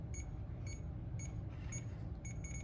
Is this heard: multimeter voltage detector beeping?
yes